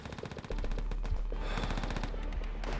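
Rapid bursts of rifle and machine-gun fire from a Call of Duty: World at War battle, loud and dense throughout with overlapping shots and continuous combat noise.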